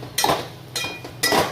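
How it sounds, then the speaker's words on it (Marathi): Semolina sheera stirred with ghee in a pan, three short scraping and clinking bursts of a spoon against the pan with brief pauses between, close and moderately quiet. "आता मिक्स करून घेऊया"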